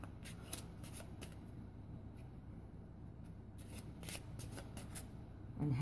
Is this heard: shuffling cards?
yes